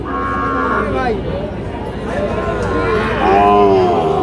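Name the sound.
Sahiwal cattle at a livestock market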